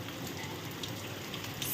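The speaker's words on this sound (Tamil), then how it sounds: "வெளியே மழை பெய்யுது, சவுண்டு கேட்டுச்சு." Heavy rain falling outside a home, a steady, even hiss of drops that continues unbroken throughout, fairly faint and heard without any talk.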